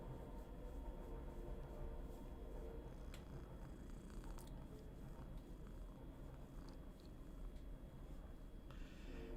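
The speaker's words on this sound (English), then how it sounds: "Obligatory internet cat." A cat purring up close, a steady low rumbling purr that holds through the whole stretch with no talking over it.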